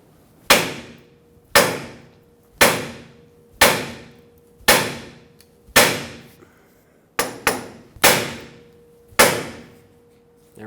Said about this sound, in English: One is to hammer right on this tie rod.